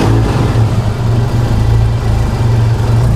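A car with a stock 3S engine and standard turbo runs close by, a steady loud mid-pitched engine drone with slight rises and dips, no talk over it.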